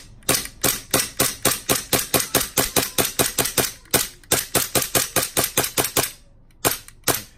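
A WE Glock airsoft gas blowback pistol fires in rapid succession, its slide cycling with loud, sharp clacks in a steady rhythm. A brief pause falls midway, and a few last shots come after a short gap near the end.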